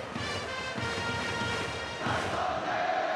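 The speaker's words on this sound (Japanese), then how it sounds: "スタンドからは必死の声援が続いています" A large stadium crowd in a baseball video game roars and chants continuously at a steady, loud level during a late-inning at-bat, with the sound swelling slightly partway through.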